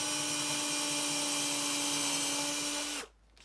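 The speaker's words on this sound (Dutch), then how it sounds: "Ik boor de gaatjes voor het lood altijd aan de linkerkant van de hamerkop." A small power drill whines at a steady high pitch for about three seconds, drilling holes for lead weights in a piano hammer head, then stops abruptly, leaving near silence.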